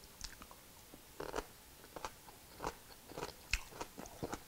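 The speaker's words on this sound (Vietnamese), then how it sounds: "Như cọng hành này mình cắn mình biết nó mềm hay nó cứng à" Crunchy green onion bitten while eating a winter melon soup with shrimp and pork meatballs, several sharp close crunches spaced irregularly over quiet background, no talking.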